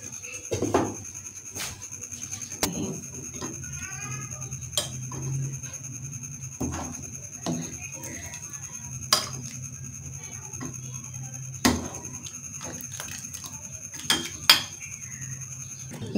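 Chicken kofta being dished out from a pot: scattered, light metallic clinks and scrapes of utensils against pots and dishes, fairly close, over a steady low hum.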